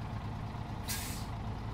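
In the SnowRunner video game, a truck's air brake releases one short hissing burst over a steady low engine rumble, with no voices.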